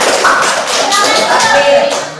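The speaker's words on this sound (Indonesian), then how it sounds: "Tepuk tangan untuk kelompok Farhan" A crowd claps together, dense and steady for a couple of seconds, filling the room without any talk.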